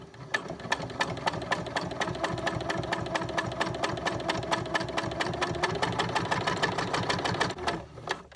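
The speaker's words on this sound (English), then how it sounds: "I'm also sewing up a couple of Christmassy bags" A sewing machine stitches Christmas-themed fabric bags in a rapid, steady mechanical chatter that runs close and loud for several seconds before briefly easing near the end.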